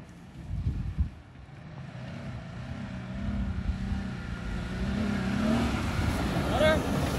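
A 2021 Jeep Gladiator pulling hard in first gear, its engine note rising steadily under wind rush and cabin rumble. Occupants talk over it.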